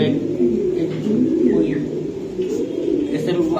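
Low, steady cooing of racing pigeons fills the clip, a continuous murmuring coo with faint chirps above and some voices underneath.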